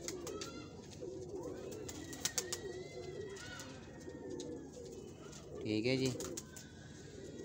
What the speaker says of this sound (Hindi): कमाल का कबूतर है